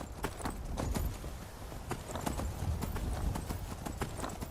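Horse hooves clip-clop steadily in Skyrim, a ridden horse moving at an even walking rhythm near the listener, the clear repeated footfalls over soft outdoor ambience with no talking.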